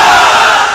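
A crowd of married men at an Islamic religious gathering shouts a chant in loud unison, one sustained massed roar lasting under a second.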